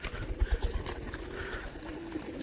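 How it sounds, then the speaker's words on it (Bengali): Pigeons coo softly and repeatedly on a rainy day, low throaty calls rolling over a steady background hum. "একটু লাল পাগলাটা খুবই ডাকাডাকি করছে"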